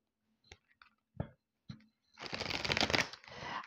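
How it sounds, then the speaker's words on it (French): Tarot card deck being shuffled by hand at close range: a few soft taps and flicks, then a quick riffling burst of cards, quiet with no talk. "tant que je brasse mon jeu"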